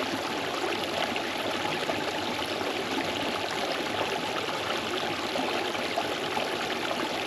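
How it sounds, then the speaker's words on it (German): River flowing outdoors in a steady, dense rush of water, continuous and fairly close with no voices. "was könnte da besser sein als aktives Wasser, wie hier den Fluss, den ihr schon so ein bisschen hört."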